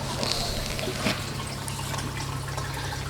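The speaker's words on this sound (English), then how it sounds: "and in comes the water and the muck." Water flowing through an opened valve into a koi fry tank: a steady, close wash of running water over a low constant pump hum, with one brief louder splash near the start.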